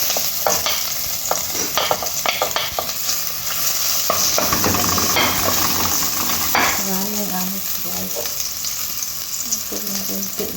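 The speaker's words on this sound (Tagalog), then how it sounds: "igisa na natin guys. Iuna natin yung ahos" Garlic sautéing in olive oil in a pan for Filipino ginisang monggo, a loud close sizzle with repeated stirring scrapes and utensil clinks throughout.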